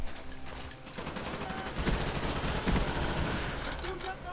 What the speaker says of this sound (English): today we are using the FAMAS with dual mag